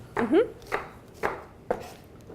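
Knife roughly chopping vegetables on a board for braised lentils: four distinct, fairly spaced thuds, close and crisp, with a brief voice near the start.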